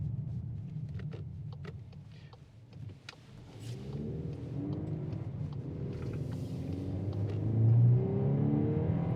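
A 2024 Volkswagen Atlas AWD in comfort mode hums with a low engine rumble inside the cabin, the drone rising gradually as it accelerates, steady and moderately quiet with no talk.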